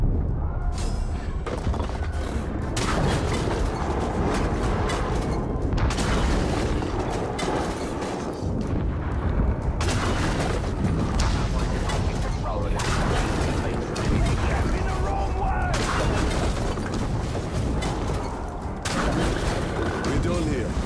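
A siege weapon fires at a castle in a video game: repeated heavy booms and blasts over a dense, loud, continuous battle din, with voices speaking amid the action.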